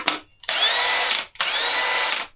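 DeWalt XR impact driver running at speed 3 gives two loud, close bursts of high-pitched whirring, each about a second long with a short gap between them.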